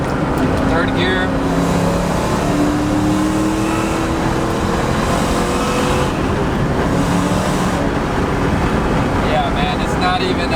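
A 700hp supercharged Ford Mustang with a blown 2-valve engine pulls hard in third gear, a loud continuous engine roar heard from inside the car with steady rising drone and wind noise throughout.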